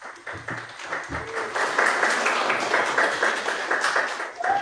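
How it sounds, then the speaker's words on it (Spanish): Audience applause at a youth internet governance conference session, clapping swelling from scattered hands into a dense, steady ovation, moderately close and filling the room. "Un aplauso,"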